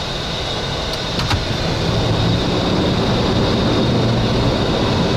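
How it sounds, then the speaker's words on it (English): An airliner's landing gear extends on approach at night: a loud, constant cockpit roar that thickens into a heavier low rumble partway through, with a couple of brief clicks early on. "Gear down."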